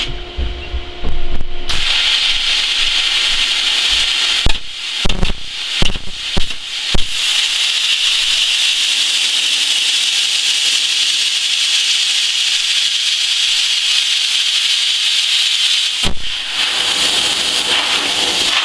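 A Cut 50 plasma cutter runs at 30 amps on 1/8 inch 6061 aluminum, giving a steady bright hiss broken by a cluster of sharp crackling bursts and one more burst later.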